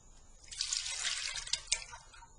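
A liquid mix of three eggs and water is poured, giving a soft, close splashing trickle that swells and fades over a couple of seconds.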